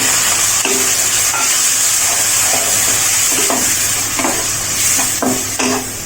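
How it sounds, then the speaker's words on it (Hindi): Steady sizzling of spice masala frying over low heat in a pan, with occasional stirring scrapes and clinks throughout, loud and close. "मसाला को हल्की आंच पर ही भूनेंगे"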